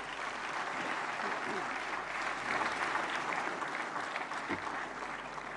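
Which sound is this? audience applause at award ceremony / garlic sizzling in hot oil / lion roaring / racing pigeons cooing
audience applause at award ceremony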